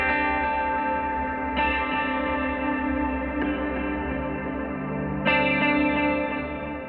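Intro of an oriental-style music composition: sustained, rich layered tones with effects and echo, new chords entering in a few swells, steady and fairly loud with no voices.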